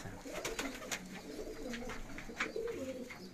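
A pigeon coos softly nearby, a few low rolling calls over quiet background.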